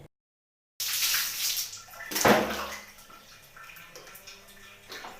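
Lukewarm water runs and splashes over shampooed hair during a rinse at home, a steady close stream with a louder gush midway, then settling into softer trickling and drips.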